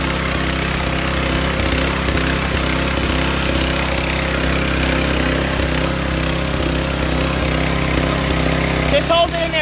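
A motor-driven pump drones steadily and loudly during the salvage of a flipped Cessna 206 seaplane, with a constant engine hum and faint periodic knocks running under the whole stretch.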